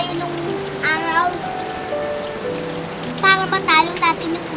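Steady rain falls at night in a continuous soft patter, overlaid by sustained tonal sounds and a few brief rising vocal swoops.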